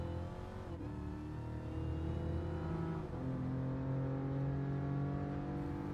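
A Chevrolet Camaro ZL1 1LE track-package engine in the racing game GT Sport drones steadily and loud, its pitch sagging and climbing through shifts and sustained acceleration with no other sounds.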